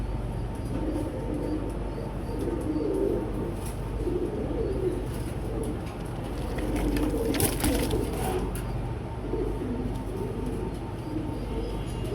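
Pigeons cooing softly in a loft where white Beauty Homer pigeons are kept, low murmuring coos repeating steadily throughout amid faint background rustle and ambient noise.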